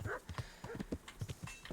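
Rhythmic clip-clop of horse hooves trotting at a steady pace in a video game, fairly quiet, with no voices.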